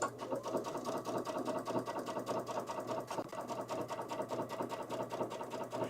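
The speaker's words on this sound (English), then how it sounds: "you can actually go ahead and on the Solaris and Luminaire, you can sew diagonally" A Brother Solaris embroidery-capable sewing machine stitching diagonally, running steadily with a fast, even mechanical needle rhythm throughout, close and continuous.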